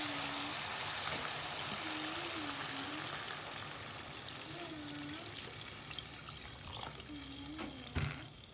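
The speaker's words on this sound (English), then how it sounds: "At this point, guys, I'm going to pour in some water." Water streams steadily into a pot of curry chicken, a soft continuous pour close by, with a faint periodic tone under it and a small knock near the end.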